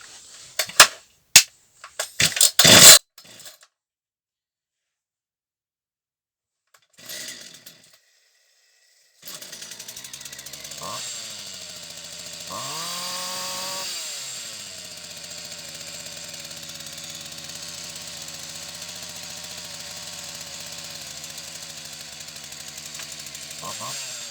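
A Partner 350 chainsaw with a suspected faulty carburetor under repair: a few sharp pops come first, then after a silent gap the two-stroke engine starts and runs steadily, revving up briefly before settling back to a droning idle.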